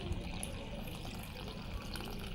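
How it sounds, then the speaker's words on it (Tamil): Salt water pours steadily from a container into a bowl of poori flour in a home kitchen, a continuous close trickling and splashing that runs for about two seconds before stopping, with no talking over it. "இப்போ நம்ம எடுத்து வச்சுருக்க சால்ட் வாட்டரை இது கூட ஆட் பண்ணிப்போம்"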